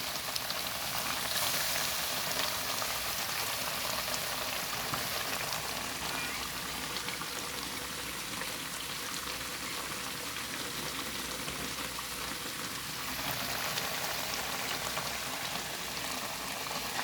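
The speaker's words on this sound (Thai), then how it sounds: "เคี่ยวปลาให้มันน้ำเข้าเนื้อให้ให้เข้าเนื้อเข้าน้ำ" Tilapia simmering in a pan for a Thai stir-fried fish dish, giving a steady, even hiss and soft bubbling that runs continuously at moderate level, with no talking over it.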